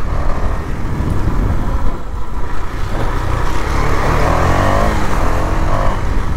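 A modified KTM Duke 250 motorcycle fitted with an aftermarket exhaust kit rides along, its engine droning steadily and loudly up close, with throttle variations and no talk.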